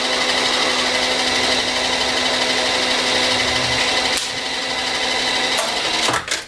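Steady, loud whine of a drill driving a countersink bit into stout, hard material, held nearly constant throughout with no talking and a brief stutter near the end.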